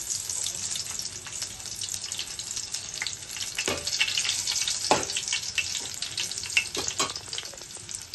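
Garlic cloves sizzle and crackle steadily in hot oil for a chutney tempering, a close, continuous frying hiss with occasional sharper pops and stirring sounds, no voices.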